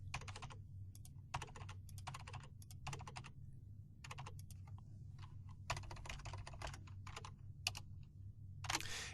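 Bursts of rapid key clicks on a computer keyboard as form information is typed, coming in irregular runs separated by short pauses, close and fairly quiet over a low hum.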